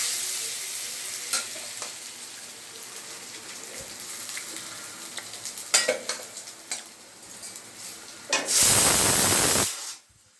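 Food frying in ghee in a pan, with a continuous sizzle and spatula stirs clacking at intervals, then a loud, broad hiss near the end before it cuts off.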